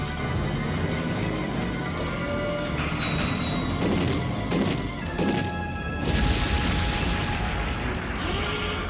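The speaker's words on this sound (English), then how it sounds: "Let's blast ourselves a hole in the ice and go for a little swim." A loud cartoon blast smashes a hole through ice, with crashing, crunching impacts, zapping whistles and rumbling effects layered over continuous action noise.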